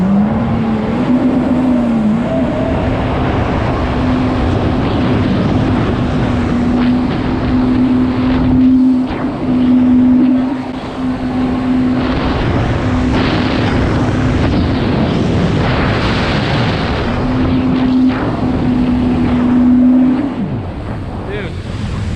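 A Yamaha Waverunner FZR jet ski engine drones loudly and continuously while riding on open water, its pitch holding steady then dropping near the end, with heavy wind rush over the microphone.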